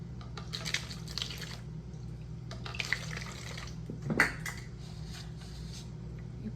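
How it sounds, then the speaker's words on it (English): Juice poured into a jar for water kefir: a soft, continuous trickling splash with a brief louder slosh, close up and with no talking. "You just pour the juice in."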